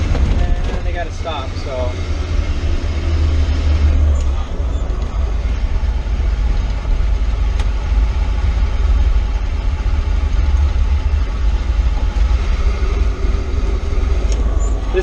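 A truck engine runs loud and steady as the driver shifts from second to third gear, a low rumble filling the whole stretch, with brief speech over it.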